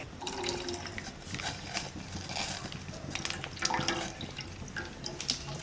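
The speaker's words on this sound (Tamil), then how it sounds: "டீ அடுப்பில் வச்சுட்டு கொஞ்சம் பார்த்து நான் கழுவிட்டு இருக்கிறேன்" Running water from a kitchen tap during washing up while tea heats on the stove, a steady close splashing stream with intermittent clinks and sloshes of handled dishes.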